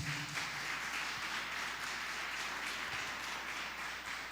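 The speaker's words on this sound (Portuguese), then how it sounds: "Dê um forte aplauso para o Senhor Jesus." A church congregation claps loudly and continuously, a dense wash of applause with no voices standing out.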